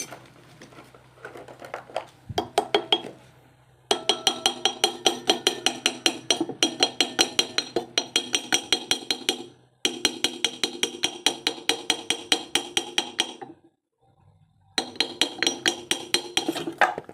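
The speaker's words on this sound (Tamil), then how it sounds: "மெதுவாக தட்டி மெதுவாக கலட்டணும்." Gentle repeated tapping on a Hero Splendor Pro motorcycle engine to loosen its cylinder bore, bursts of steady rapid metallic knocks, close and clear, broken by short pauses.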